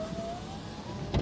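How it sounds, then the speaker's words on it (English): Electric power window motor in a used Hyundai Accent sedan whirs steadily for about a second, close and alone, ending with a brief thunk as the glass reaches its stop. "Let's check out the window control here"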